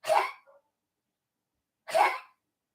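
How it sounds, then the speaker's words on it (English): Two short, harsh coughs from a dog, close by, about two seconds apart, with silence between them. "Zeus has been coughing a little bit lately"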